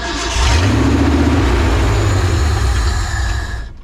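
A 1970 Ford F250 truck engine cranks over and catches, then revs loudly and steadily for a few seconds before easing off, close and alone.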